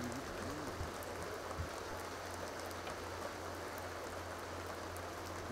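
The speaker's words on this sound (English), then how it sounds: "Oh, it's raining again." Rain in The Sims 2 falls as a faint, even patter and hiss, constant throughout with no talking.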